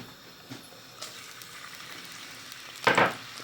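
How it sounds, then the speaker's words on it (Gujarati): Garlic dropped into hot oil for a dry fish curry: low background sizzle, then a sudden loud burst of hissing near the end as it hits the pan. "ચાલો હવે નાખી દઈએ લવણ"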